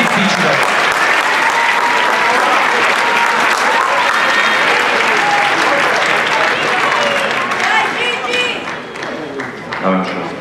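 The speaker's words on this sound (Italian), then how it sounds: "Facciamo un applauso all'Italia e incoraggiamola in questo momento un po' difficile." Sustained crowd applause for the Italian team at a team fencing final against Korea, loud and steady with dense clapping and voices mixed in, tapering off near the end as the clapping thins.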